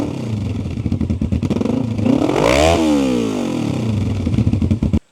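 A Yamaha Vmax 1200 motorcycle engine idles with a lumpy, pulsing beat, then is revved once sharply up and back down before settling into the choppy idle again and cutting off abruptly; close and loud.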